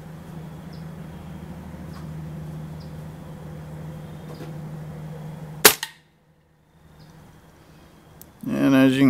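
A single sharp crack from a Gamo Swarm .22 air rifle firing, loud and near, with a steady low hum before the shot and voices starting shortly after.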